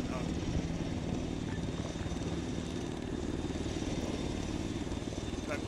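A helicopter idling and waiting in a military video game, its rotor and engine making a continuous close drone with a rhythmic thrum.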